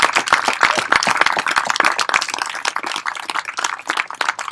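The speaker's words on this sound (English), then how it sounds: "You deserve a round of applause for being here today." Audience at a union rally in Central Massachusetts clapping, a loose crowd of distinct hand claps at close range, irregular and lively, with no talking over it.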